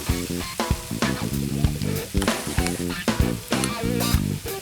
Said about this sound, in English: I'm gonna actually add my flour right into this and let this roux develop as I cook down these veggies